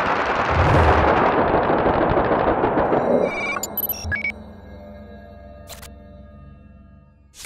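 A full-auto Ruger 10/22 rifle fires a loud, rapid burst for about three seconds. The burst breaks off into ringing tones and clicks, with a sharp report at the end.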